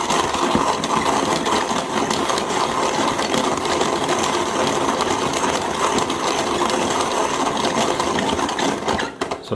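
A Zassenhaus Santiago manual coffee mill grinds coffee beans in a steady, rough, gritty churn, close and continuous for several seconds before trailing off at the end.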